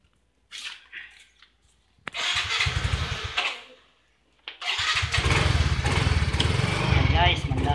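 Yamaha Mio i 125 scooter after a spark plug fault: the starter cranks briefly, then the engine catches and idles with a steady putter, stops, and is started again, running loudly and close by.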